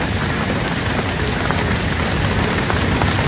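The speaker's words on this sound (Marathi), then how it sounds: "भर पावसात येऊ बघा येतो जरा बघा या पाऊस पडतो" Steady, dense rain pours down, a constant hiss of drops striking surfaces with no pauses and no voices.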